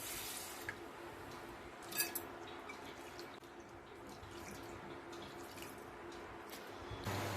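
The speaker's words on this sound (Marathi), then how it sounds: "तांदूळ धुवून घेते." Rice washed in water in a pot for a vegetable biryani, with soft continuous sloshing and dripping water, a brief splash near the middle, close and fairly quiet with no speech.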